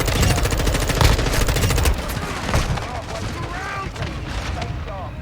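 Heavy rapid gunfire rattles through a video game, loud at first and then thinning into scattered shots and rumble as a voice talks over it.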